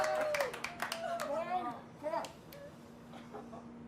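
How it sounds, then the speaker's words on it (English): A family claps during a live broadcast of a stratosphere skydive, with a brief burst of hand claps at the start and a few more later, mixed with excited voices, including a child's. "Family applauding"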